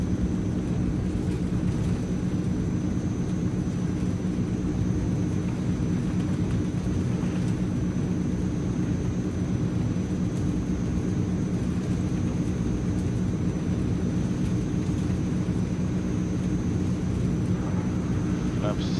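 A Transall C160 twin-turboprop cargo plane rolls down the runway and rotates for takeoff in Microsoft Flight Simulator, a steady loud engine drone held for the whole stretch with no spoken words.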